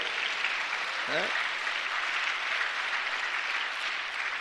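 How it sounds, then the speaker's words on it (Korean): A church congregation at a Sunday service keeps up a steady wash of applause throughout, with a brief sung or spoken voice rising over it near the start. "박수 좀 하세요. 박수."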